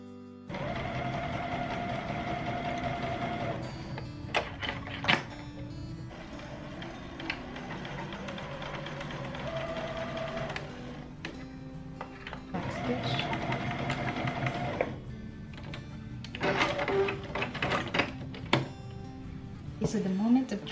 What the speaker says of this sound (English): I'm just going to sew it all the way around